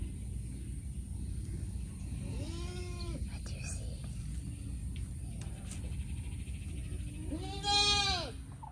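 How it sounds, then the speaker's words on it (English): Goats on a farm give two loud, wavering bleats about five seconds apart, the second closer and stronger, over steady outdoor background noise with quiet speech nearby. "Goats."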